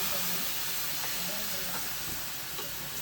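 Milk poured into a pan of flour fried with garlic gives a loud, steady sizzling hiss that fills the whole moment, with a voice speaking faintly underneath.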